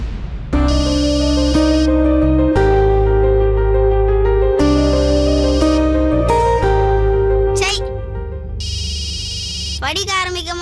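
A telephone ringtone plays loudly in a Tamil television drama scene, a melodic repeating electronic tune in bursts over background music, with short pauses between phrases.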